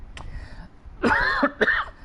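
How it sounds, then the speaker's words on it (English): A short cough, a faint throat sound first, then two harsh coughing bursts close to the mic. "Excuse the cough."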